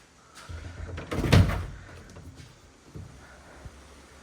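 Door of a 1982 Toyota LandCruiser FJ40 thudding shut with one loud, close, solid clunk, followed by a few fainter knocks and rattles.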